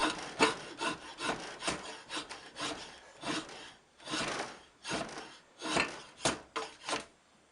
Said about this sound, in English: I'm going to change the angle of my draw knife.